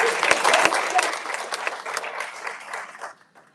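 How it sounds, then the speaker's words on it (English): Audience at a school graduation ceremony bursts into loud applause, many hands clapping densely at first and then tapering off to scattered claps before fading out near the end. "Clap for yourselves."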